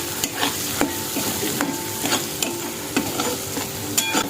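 Spicy bhogi vegetable sautéing in a pan, a close, lively sizzle punctuated by frequent sharp clinks and scrapes of a spatula stirring, with no one speaking.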